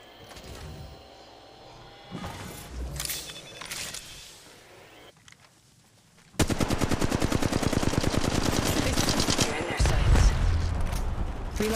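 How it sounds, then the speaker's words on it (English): Rapid automatic gunfire from a Wraith match in Apex Legends Mobile, first scattered distant shots and crackles, then a loud, sustained burst of fast, evenly spaced rounds dominating the second half. "Opening fire."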